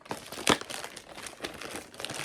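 Crinkly wrapping on a mailed package being torn and unwrapped up close, quiet rustling crackles with a few sharper rips, no talking.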